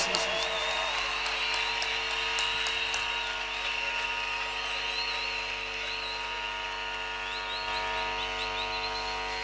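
An audience applauds and cheers over a sustained music backdrop, with a few sharp claps early on and then steady clapping mixed with the band.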